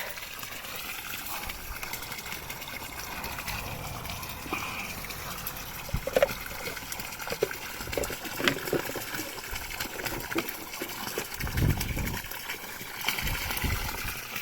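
Water gushing and overflowing from a stocking-type filter on a hose outdoors while fishing for crucian carp, a steady broadband stream running throughout with occasional louder splashes, fairly close.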